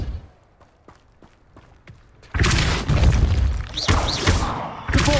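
A Depulso force spell cast in the video game Hogwarts Legacy: a sudden loud booming blast with a heavy thud and crashing debris, following a few quiet ticks, then a second burst near the end.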